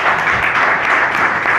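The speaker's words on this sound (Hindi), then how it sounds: "गौरव सर के लिए एक बार जोरदार तालियां।" Brief burst of enthusiastic audience clapping at a product marketing meeting, loud and dense with many hands, with no speech over it.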